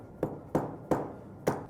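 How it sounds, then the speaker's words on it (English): A dead blow hammer strikes a metal part of a Graco Probler P2 plural component spray gun on a flat surface, giving four sharp, close thuds with a slight ring, evenly spaced about a third of a second apart. "I leave the set screw in, get a dead blow hammer"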